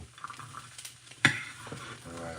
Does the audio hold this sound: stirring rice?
yes